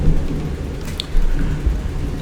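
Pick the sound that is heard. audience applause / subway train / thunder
thunder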